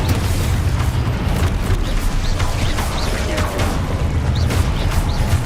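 A booming Expulso explosion spell cast in Hogwarts Legacy, a loud, dense rumbling blast that roars steadily for several seconds with crackling, mechanical-sounding debris layered over a heavy low end.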